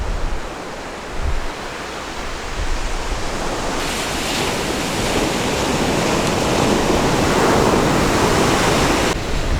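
Ocean surf rolls onto the shore beside the Fukushima nuclear power plant in Japan, a continuous roaring wash that swells slightly louder midway and holds steady, close by with no talking.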